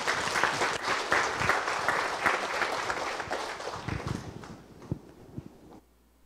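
A church congregation applauds, with dense, steady clapping from many people that holds strong and then tapers off to a few scattered claps near the end.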